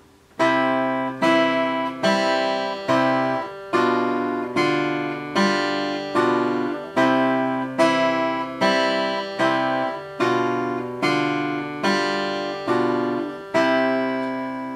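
Acoustic guitar fingerpicked in a steady repeating Giuliani study pattern, plucked notes ringing over a low bass note on each beat, clear and close with no voices.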